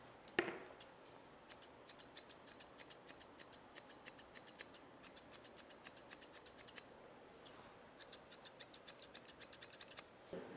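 Grooming scissors snipping the ear fur of a Miniature Schnauzer, a fast, faint run of small metallic clicks in quick bursts with brief pauses, close and alone without speech.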